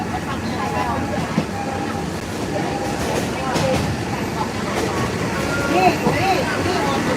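Steady rumbling and rattling inside a moving passenger train carriage on a line to Hua Hin, Thailand, with broad rolling noise throughout and occasional faint voices in the background.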